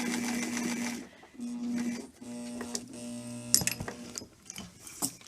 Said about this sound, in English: Then you're going to continue sewing to the end of this bias tape.